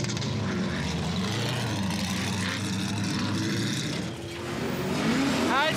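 An off-road vehicle climbs a steep desert slope, its engine droning loud and steady, rising slightly in pitch near the end as it accelerates.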